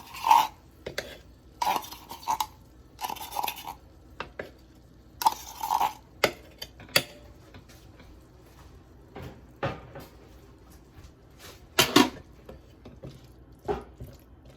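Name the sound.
stirring vegetable curry with paste in a pot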